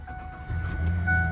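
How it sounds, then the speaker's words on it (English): A Ford 3.0 V6 with about 151,000 miles, freshly fitted with a new timing chain after sitting a long while, cranks and catches into a steady low idle, close and loud with no talk. "Starting the engine."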